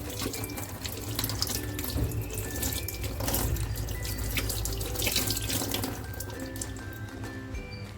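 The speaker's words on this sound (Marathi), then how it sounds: "अशाच ह्या सगळ्या नळ्या मी साफ करून घेते म्हणजे धुवून घेते" Goat intestines being rinsed under a running kitchen tap, with a steady close gush of water splashing into a sink and mixed with wet handling sounds throughout, with no voices.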